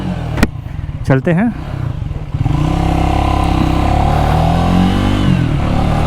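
A Triumph Speed 400 motorcycle starts with one touch, its engine firing after a brief crank and then settling into a steady, loud idle and rumble as it begins to move off, with someone speaking briefly over it.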